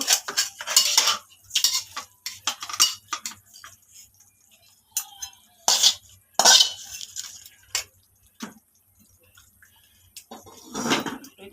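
Rohu fish pieces go into a pot of cooking eggplant and potatoes, giving scattered clinks and clatters of utensils against metal, with quiet gaps between the bursts.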